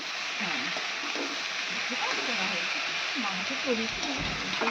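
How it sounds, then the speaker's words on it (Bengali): Pabda fish frying in oil in a village kitchen, a continuous hissing sizzle with faint crackles while a person talks over it. "এই যে পাবদা মাছটা ভেজে নেওয়া হচ্ছে"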